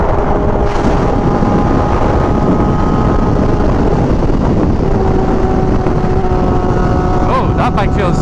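An MV Agusta Superveloce with an SC Project exhaust is ridden, its engine a loud, close, steady drone overlaid with heavy wind rush, with brief shifts in pitch as it changes gear.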